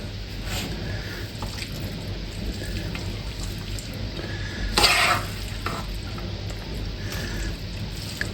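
Minced meat mixture being spread and pressed into a pie mould, soft wet squishing and scraping with a brief louder clatter midway, over a steady background hiss.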